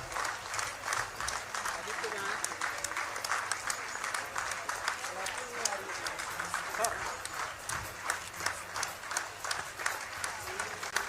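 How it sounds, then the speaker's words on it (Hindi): Crowd applause welcoming a Hawk Force police constable promoted to head constable at a ceremony, a dense, steady clapping that continues throughout, with a voice speaking over it. "जोरदार तालियों से स्वागत कीजिए।"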